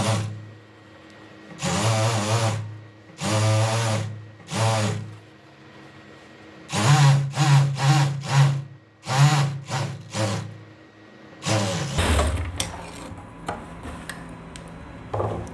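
Electric sewing machine stitching a trouser seam in repeated bursts: short whirring runs with pauses, then a quicker series of brief stitches and some handling rustle, close and alone.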